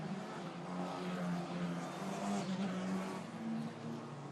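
Euro 4 race cars roar around the Monza F1 circuit with a sustained high-pitched engine whine. Pitches shift as the cars pass close together, and there is no speech.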